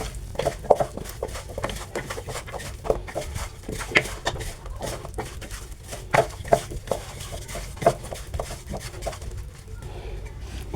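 Chicken wing ingredients being stirred and mixed together in a bowl with a spoon, producing irregular soft clinks and scraping taps over several seconds amid faint background noise.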